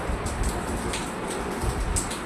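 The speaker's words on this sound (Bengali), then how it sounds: "এখন বাইরে বৃষ্টি পড়ছে" Steady patter of rain falling outside, a soft continuous hiss with faint scattered drops, no voices.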